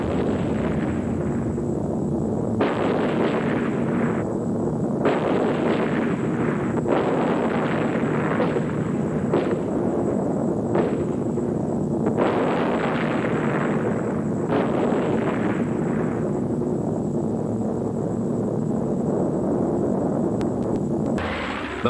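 Anti-aircraft fire against B-25 Mitchell bombers in wartime, a dense series of heavy bursts and rumbling blasts repeating over a continuous loud roar of aircraft engines.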